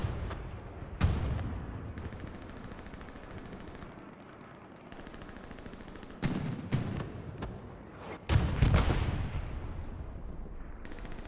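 Machine gun bursts rattle through a Hell Let Loose battle in Hurtgen Forest, with several loud rapid volleys separated by rumbling distant gunfire and battlefield ambience.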